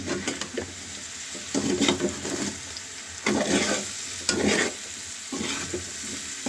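Spiced finger potatoes frying in a pan while being stirred, a steady sizzle with repeated scraping and stirring swishes in an uneven rhythm, close and moderately loud, with no talking.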